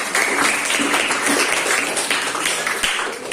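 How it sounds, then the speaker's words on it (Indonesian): Classroom applause for students during a lesson, a short burst of many hands clapping together in a room, steady and fairly loud throughout. "Kasih tepuk tangan sama kalian."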